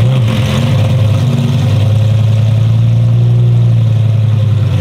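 An old Dodge car engine catches and settles into a loud, steady, rumbling idle, running close and alone.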